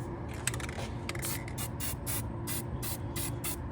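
Permatex battery protector and sealer is sprayed from an aerosol can while a VW/Audi MQB EA888 engine is being worked on. It comes as a series of about eight short, close hissing bursts in an uneven rhythm, with no talking.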